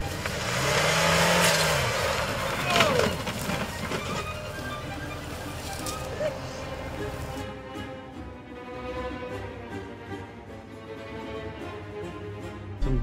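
A Range Rover Evoque Convertible pushing through dump-truck ruts, its engine revving and straining loudly at first, with rattles and bumps, then settling to a quieter, steady drone.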